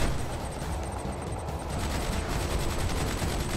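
Vertigo bomber carrying out a bombing run in Command and Conquer 3: Kane's Wrath, a dense, loud, continuous rumble of blasts and rapid gunfire filling the whole stretch.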